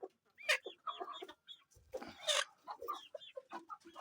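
Chickens and chicks clucking and peeping close by, a busy run of short calls and chirps in irregular bursts, fairly quiet with brief pauses between them.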